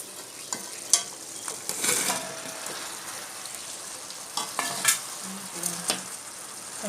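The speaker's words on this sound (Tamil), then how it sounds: "நல்லா கிளறி விட்டுக்கலாம்." Fried chicken pieces in sauce sizzle in a pan while being stirred, with a soft steady frying hiss and intermittent clinks and scrapes of a utensil against the pan, close by.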